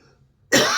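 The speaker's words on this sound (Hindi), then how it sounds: "खांसी ज्यादा है रही" A single sharp, loud cough from a person bursts out abruptly after near silence during a Hindi devotional discourse.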